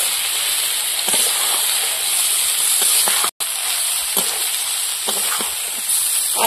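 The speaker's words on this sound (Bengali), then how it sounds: "এবার সেদ্ধ করা আলু আর মটর দিয়ে দেবো।" Boiled potatoes and peas frying in spice paste, giving a loud, continuous hiss and sizzle with light stirring clicks and a brief dropout partway through.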